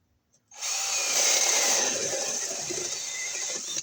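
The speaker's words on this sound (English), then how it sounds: "So our stud is here, so I'm going to drill it over here just a little bit." A power drill runs steadily for about three seconds, boring through an exterior wall beside a stud with a high, grinding whine, close and loud.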